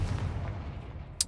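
A Confringo blasting spell is cast in the Hogwarts Legacy video game: a faint low rumble ends in one short, sharp burst near the finish, quiet overall and with no talking.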